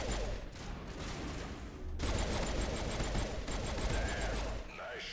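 Rapid gunfire from a sci-fi shooter, Mass Effect, rattles on in dense continuous bursts for several seconds, loud and close with layered weapon fire and some faint voice-like sounds mixed in.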